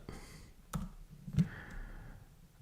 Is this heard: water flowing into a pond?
no